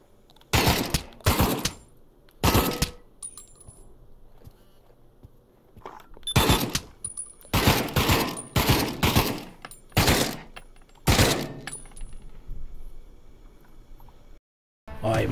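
Pavlov VR shooter training map with repeated gunfire: sharp, loud shots in short bursts and single cracks separated by pauses, some volleys fast and clustered, over a quiet background.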